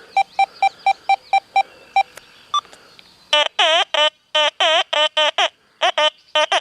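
Rapid beeping tones from an XP Deus 2 metal detector running a lower disc setting with silencer, first short evenly spaced pips, then louder, longer warbling tones in irregular bursts, close and clear with no talk.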